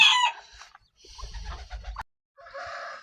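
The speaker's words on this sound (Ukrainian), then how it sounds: "півні вже кругом співають на всю" Roosters crowing loudly up close, one long crow at the start followed by further crowing calls and clucks, with a short silent gap between.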